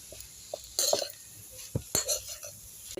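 Chopped vegetables for paneer momos get stir-fried in a pan, a faint sizzle broken by intermittent spatula scrapes and clinks against the metal.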